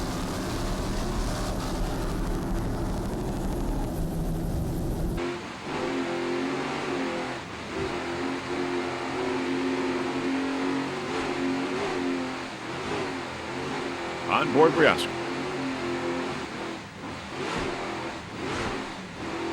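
An offshore racing powerboat with twin 750 horsepower Fluke inboard engines roars during the Brick Offshore Grand Prix at Point Pleasant, New Jersey, its engine note rising and falling in surges, with a commentator's voice briefly over it.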